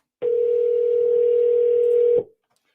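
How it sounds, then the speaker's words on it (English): A telephone tone during an outgoing call: one steady, close electronic beep holding for about two seconds, then cutting off into silence. "Can y'all hear the phone ring?"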